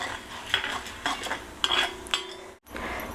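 Chana dal and urad dal frying in a pan while being stirred, several crisp scraping and clinking strokes of a spoon against metal over a soft sizzle, close and moderately loud, with a brief silent gap near the end.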